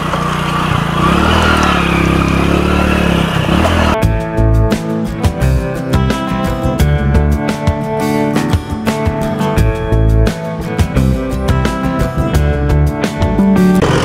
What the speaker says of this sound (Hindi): ट्रैक्टर बच्चा चला रहा है।